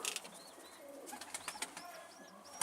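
Mardin pigeons kept by a bird fancier coo softly at a distance, with a few short calls scattered through a quiet background.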